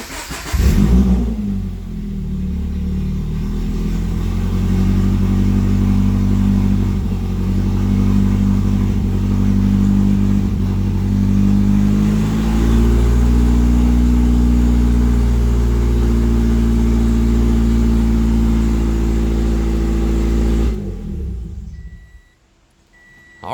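A car running on E85 with a partial exhaust, missing its front pipe, cranks and fires on its first start, then holds a loud, steady, throaty idle for about twenty seconds before cutting off abruptly.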